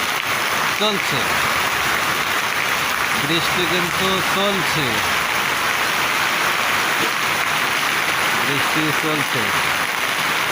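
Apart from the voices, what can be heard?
rain falling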